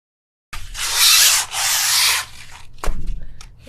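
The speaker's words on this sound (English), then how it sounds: "I'm going to take the fine grained sandpaper and sand gently to make sure that I'm getting rid of some of the roughness" Fine-grained sandpaper is rubbed gently over a primed linen canvas in two close, smooth scraping strokes, followed by a few lighter brushing touches and a soft knock.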